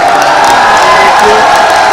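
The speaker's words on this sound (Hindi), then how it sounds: "लगातार तालियां बज रही हैं" Dense, steady crowd noise from a BSP rally for Mayawati, with continuous clapping, cheering and scattered whoops blending into a loud roar that fills the whole moment.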